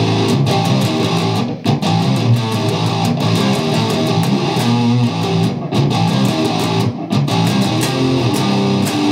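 Distorted electric guitar plays a verse riff, a dense, loud and continuous chugging pattern with short breaks between phrases, heard alone.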